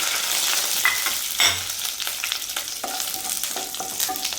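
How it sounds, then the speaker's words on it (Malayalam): Dried red chillies and curry leaves fry in hot coconut oil for garlic chicken, giving a steady, close sizzle with light stirring clatter and a few sharper pops. "വറ്റൽമുളകും കറിവേപ്പിലയും കൂടെ ചേർത്ത് കൊടുക്കാം."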